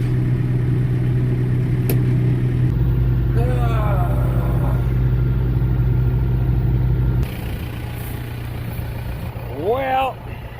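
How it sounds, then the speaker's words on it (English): A tractor runs steadily at raised RPM with its PTO driving a hay baler whose chain keeps slipping off, giving a loud, continuous engine and machinery drone that eases slightly in level partway through, with brief voices over it. "let's fire up PTO and see if it'll turn to bale again."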